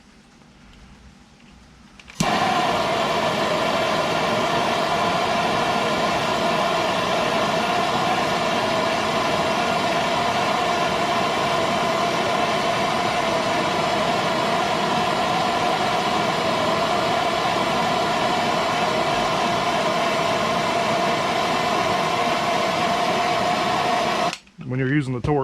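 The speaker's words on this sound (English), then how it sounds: "I'm going to heat up about 2-inch section on one end of this pipe" A MAP gas torch roars steadily and close while heating a section of pipe, a constant loud hiss lasting over twenty seconds after ignition before shutting off.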